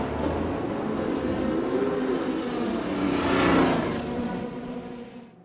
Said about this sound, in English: We start the car back up, drop into first gear, and take off.